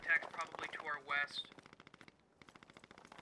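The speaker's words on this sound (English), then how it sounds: "We're taking a lot of gunfire from the hill to our northwest." Rapid bursts of automatic gunfire in the military shooter game Squad, a quick run of sharp, evenly spaced shots that fades toward the end, following a few seconds of talk.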